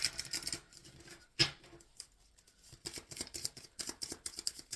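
Tarot cards being shuffled by hand, a quiet series of crisp riffling and flicking bursts with a sharp snap in the middle, close to the microphone and without talk.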